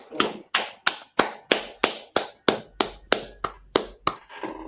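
About a dozen sharp, evenly spaced handclaps ring out close and alone, a steady slow rhythm on a political talk show.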